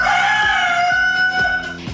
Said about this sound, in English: Hi, Roger the Rooster, how are you going?